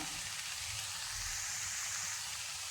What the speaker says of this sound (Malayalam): ചിപ്പി കൂണാണ് എടുത്തിരിക്കുന്നത് വിഴുക്ക് വരട്ടാൻ അത് നമുക്ക് ഇനി അതിലേക്ക് ഇട്ട് കൊടുക്കാം ഇട്ട് ഒന്ന് നന്നായിട്ട് വഴറ്റി കൊടുക്കാം